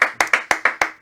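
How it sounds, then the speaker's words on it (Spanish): Six sharp hand claps ring out in a radio studio during a morning talk show, close and loud at an even, brisk pace, with no talk over them. "Por favor, un aplauso."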